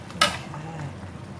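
A utensil stirring chicken coated with oyster sauce, light soy sauce and dark soy sauce in a pan, heard as one sharp scrape or clink followed by soft, quiet stirring and faint sizzle.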